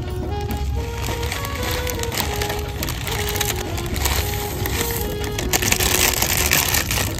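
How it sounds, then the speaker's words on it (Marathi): Wood fire lit outdoors for cooking Maggi noodles, crackling and popping with small sharp snaps over a steady background hiss, fairly close and continuous. "आणि आग पेटवली आम्ही"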